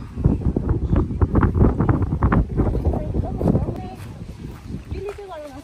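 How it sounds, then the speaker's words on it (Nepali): Strong wind buffets the microphone in heavy gusts on a Hong Kong hiking trail, with a person talking over the roar. "यस्तो हावा आएको छ कि साथीहरू"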